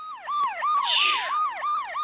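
Police car siren in a knockoff Transformers video game, wailing in a steady repeating up-and-down sweep, loud and close, with a brief bright noisy burst in the middle.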